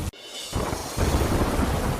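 A heavy downpour that has flooded a school ground roars as a dense, continuous broadband wash, briefly dipping at the very start, then swelling louder and steady with no voices.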